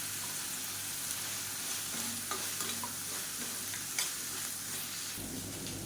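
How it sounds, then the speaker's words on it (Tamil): Boiled cauliflower stir-fried in a pan, giving a soft, continuous sizzle with scattered scraping sounds as it is tossed around. The whole sound is fairly quiet and close. "வேக வச்சு வச்சுருக்க காலிஃப்ளவர் காலிஃப்ளவர் சேர்த்து நல்லா ஒரு ரெண்டு பரட்டு பரட்டி விட்டுட்டு"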